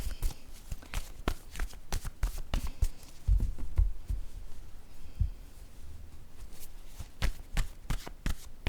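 Word card drawn from a deck, giving a run of quick dry papery flicks and taps close by, with several sharper snaps clustered near the middle and end, no talk.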